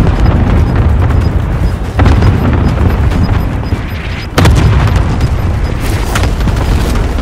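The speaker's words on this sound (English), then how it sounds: "Cluster strike is active." Heavy cluster strike explosions in Call of Duty Warzone, a loud continuous rumble of booms with a few sharper blasts breaking through, close and dense.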